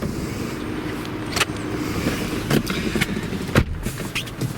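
Lexus SC 430 convertible driving, with a continuous rumble of engine and road noise and several brief sharp clicks and thumps from inside the cabin.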